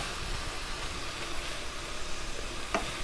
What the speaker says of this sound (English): we're going to let this just steam up a little bit